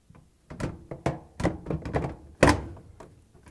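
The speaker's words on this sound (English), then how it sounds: "Now it's time to hang the door on." A dryer door being hung onto its two hinge hooks during a Whirlpool door seal replacement, heard as a series of close, sharp metallic knocks and thunks, the loudest one near the end.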